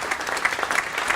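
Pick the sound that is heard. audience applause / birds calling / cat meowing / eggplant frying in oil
audience applause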